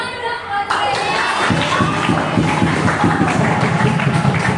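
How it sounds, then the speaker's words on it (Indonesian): Junior high school class in an Indonesian classroom clapping for a student, a burst of hand claps and lively chatter filling the room after a brief moment of quieter speech. "Oke, tepuk tangan dong buat Rehan."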